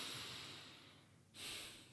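A deep inhale taken during a conscious breathing exercise: a soft, airy intake that fades, then a sharp, close breath surges in near the end.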